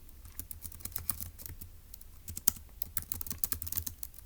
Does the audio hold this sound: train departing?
no